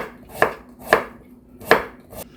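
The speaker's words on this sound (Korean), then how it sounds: "납작납작하게 그렇게 썰을게요." A knife cuts radish into flat slices for a Gyeongsang-style beef and radish soup, giving four crisp, close chops on a board at a slightly uneven pace, with no voices.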